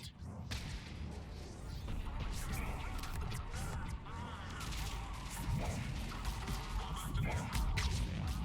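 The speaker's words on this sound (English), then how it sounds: "look at that double explosion" Double explosion on a multiplayer map mission in Mass Effect 3, heard as a dense, loud wall of crashing blasts and rumbling noise with sharp impacts throughout, no clear pause.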